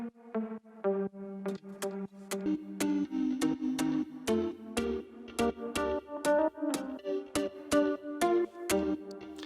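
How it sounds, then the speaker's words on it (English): Pluck synth sounds from a dance music track, short bright plucked notes in a steady rhythmic melodic pattern over a low sustained tone, clear and moderately loud. "I'm gonna go into these plucks because these do a lot for the song."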